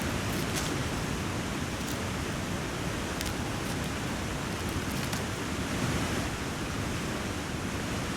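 A waterfall in The Long Dark roars as a dense, constant rush of loud broadband water noise, steady and unbroken throughout.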